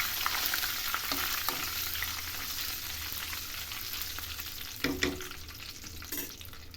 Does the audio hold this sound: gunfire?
no